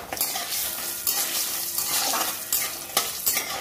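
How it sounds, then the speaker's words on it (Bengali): Homemade lentil dumplings (bori) frying in hot oil, a dense close sizzle broken by scraping and clinking stir strokes from a spatula in the pan, with no talk. "বড়িগুলো বড়িটা ভেজে নেব।"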